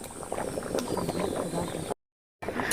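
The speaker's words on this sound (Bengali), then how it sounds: "এদিকে তরকারিটা ফুটছে, তরকারিটা আমি একটু নেড়ে দিচ্ছি যাতে তলাটা না ধরে যায়।" Chicken curry bubbles steadily in a pot while it is stirred, a dense simmering gurgle that cuts out briefly near the end before resuming.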